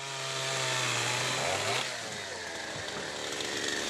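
Chainsaws cut openings into the wooden decks built on top of a pontoon, with a steady, loud, raspy engine whine that shifts pitch slightly as the blade bites into the wood, with no talking.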